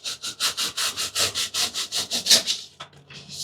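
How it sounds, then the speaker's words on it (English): A small hacksaw cuts steel in quick, regular strokes, about a dozen rasping back-and-forth passes heard up close before a brief pause and a few slower strokes. "just a little hacksaw"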